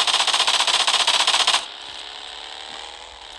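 MP5K submachine gun with a red dot sight firing in PUBG Mobile: a loud, rapid automatic burst lasting about a second and a half, then stopping abruptly, leaving a faint mechanical hum and a click.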